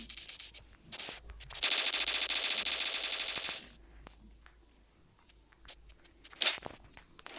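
Rapid automatic gunfire from the mobile shooter game Standoff, a long sustained burst of shots followed by footsteps and a few scattered single shots, loud and close with no talk.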